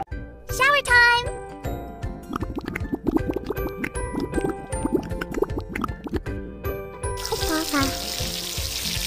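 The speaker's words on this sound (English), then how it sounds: "Shower time!" Cartoon shower water runs in a kids' unicorn pony care game, a bright hiss starting near the end after chiming game jingles and cheerful sound effects, with a voice speaking over it.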